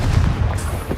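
A single Confringo spell blast in Hogwarts Legacy, a heavy, low thump that lasts about a second, close and full.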